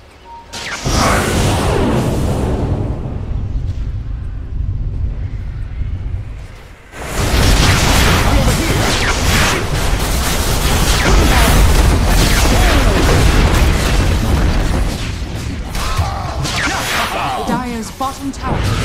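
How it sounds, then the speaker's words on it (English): Dota 2 match with the Dire bottom tower being struck, loud booming impacts and whooshing effects in dense bursts, a brief lull before a renewed heavy barrage, with game narration over it. "Dire's bottom tower is under attack."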